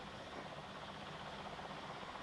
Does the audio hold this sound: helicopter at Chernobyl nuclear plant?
yes